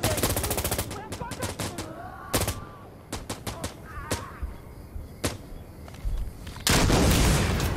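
Rapid gunfire in the video game Insurgency, with sharp single shots and bursts, ending in a loud sustained RPG blast, all close and loud.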